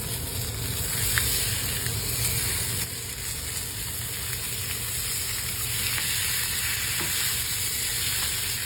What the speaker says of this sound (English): we're gonna jam them right there into my cast iron skillet and let those get a nice sear going